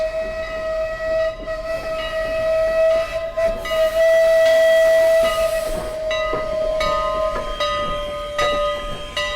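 A 0-6-2 steam locomotive at the Strasburg Railroad sounds a long, loud, close steam whistle. Its steady chord holds over hissing steam and rumble, then is joined by sharper, brief whistle blasts near the end.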